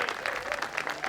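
A gallery crowd at the 2022 Preserve Championship disc golf event applauds and cheers after a big shot, a brief, fairly faint patter of clapping heard at a distance.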